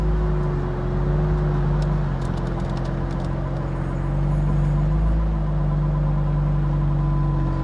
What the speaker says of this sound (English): I've put it into reverse, reversing back.